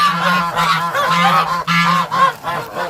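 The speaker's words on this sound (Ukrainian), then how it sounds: "Гуси, гуси. Нате вам." Several geese honk loudly up close in a rapid, overlapping series of nasal calls, with no talking.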